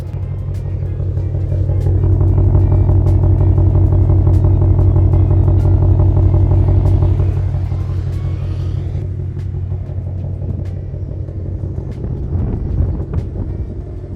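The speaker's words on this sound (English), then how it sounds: "At idle, it's actually pretty tame, but it wakes up fairly quickly." A 2022 Ford Mustang Shelby GT500 Carbon Edition engine heard up close, a deep steady rumbling idle that swells and then settles back, with faint wind noise on the microphone.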